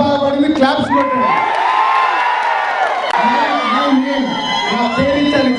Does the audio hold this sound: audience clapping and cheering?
yes